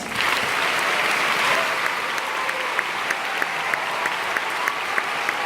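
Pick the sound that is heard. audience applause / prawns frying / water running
audience applause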